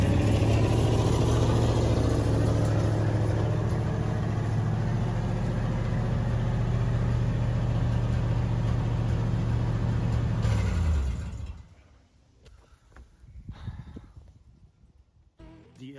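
A 1966 Chevy Nova engine idles steadily and loud for about eleven seconds with a deep low drone, then cuts off, leaving quieter rustling and handling noises.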